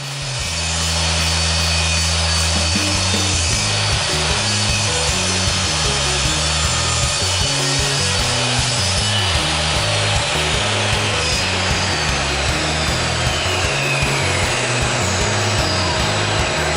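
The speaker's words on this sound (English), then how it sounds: "I ripped some scrap maple into strips and then I cut it pretty much into a picture frame using my" A power saw ripping and cutting scrap maple into thin strips, a loud, steady, continuous whine with a rhythmic pulsing drone underneath, running close and unbroken throughout.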